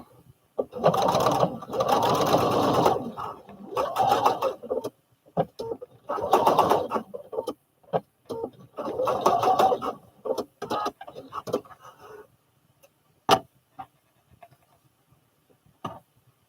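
A sewing machine stitches a piece of fabric down over elastic in several bursts of rapid, even whirring separated by pauses, close and fairly loud, ending in a few isolated clicks.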